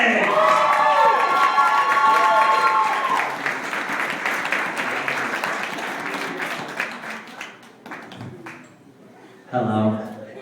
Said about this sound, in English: give a warm round of applause for Aaron Johnson